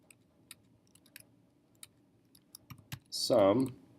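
Scattered keystrokes on a computer keyboard tap sparsely in a quiet room while entering a spreadsheet formula, then a person starts talking near the end.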